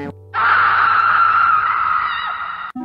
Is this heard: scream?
yes